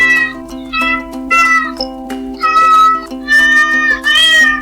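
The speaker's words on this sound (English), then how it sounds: "Cat meows." A cat meows repeatedly, loud drawn-out cries one after another, over a steady humming tone in the background.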